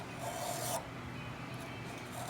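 An old Simmons hand file rasps across metal on a rickety setup while sight pusher bits are shaped, a short scraping stroke up front followed by quieter rubbing, close and fairly faint.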